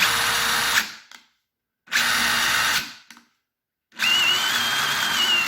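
A DeWalt DCF887 impact driver with a power fault whirs in three loud bursts, each cutting off abruptly into silence, the last one wavering in pitch as it runs.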